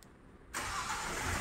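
Near silence, then the diesel engine of a new Hyundai Venue SX abruptly cranks and catches, settling into a steady idle close by.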